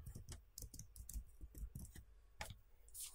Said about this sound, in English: here I'll just simply type